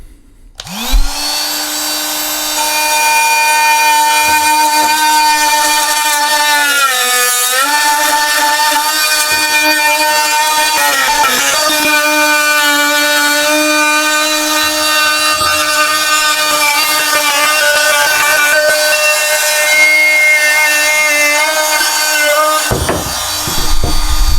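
A Fein oscillating multi tool fitted with a Milwaukee blade, set to top speed 6, cutting into wood: a steady, loud buzzing drone with strong harmonic whine that runs almost unbroken for over twenty seconds, dipping briefly twice, then cutting off.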